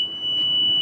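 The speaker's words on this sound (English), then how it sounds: "A couple of buzzers. I'll actually just turn the car on so you can hear." With the key turned on and the canopy doors open, a Toyota car sounds a steady, high-pitched warning beep that stays constant and fairly loud throughout.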